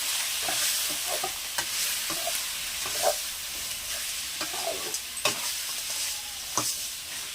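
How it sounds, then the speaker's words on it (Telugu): Chicken is stirred with turmeric, coriander powder and chicken masala in a hot pan, with steady frying sizzle and repeated scraping spoon strokes close by and no talk. "పసుపు, ధనియాల పౌడరు, చికెన్ మసాలా వేసి కలపాలండి."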